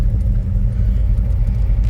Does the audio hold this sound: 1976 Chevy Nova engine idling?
yes